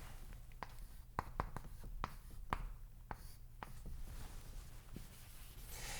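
Marker or chalk strokes on a board during a math lesson, a series of sharp scratchy taps and squeaks at irregular intervals over a quiet room hiss.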